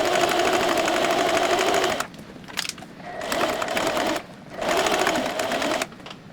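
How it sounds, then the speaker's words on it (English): Sewing machine stitching close to the edge of a hat, three fast rattling runs of a couple of seconds each with brief quiet gaps and handling clicks between them, fairly close and without speech. "And now I'm just going to take this to my machine and basically stitch as close to the edge as I can."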